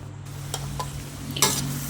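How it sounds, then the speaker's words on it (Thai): Large apple snails stir-fried for a Thai curry, with a steady low sizzle in the pan and a few scraping stirs, ending in a brighter rustling scrape. "หอยนะคะจะตัวใหญ่ เราก็ผัดให้นานหน่อยนะคะ ให้เนื้อนิ่มๆหน่อย"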